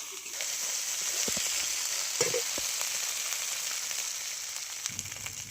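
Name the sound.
frying spice paste with ginger in oil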